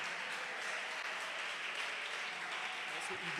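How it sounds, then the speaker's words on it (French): Audience applause fills a choral awards ceremony held by the Congolese choral music federation, a steady, dense wash of clapping that holds at an even level throughout. "Sous vos applaudissements."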